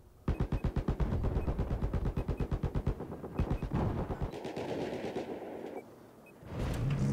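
An M16A4 burst-fire rifle in Battlefield 4 on PS4 during a Golmud Rush match fires rapid, evenly spaced loud shots in quick strings, followed by scattered distant gunfire and rumble.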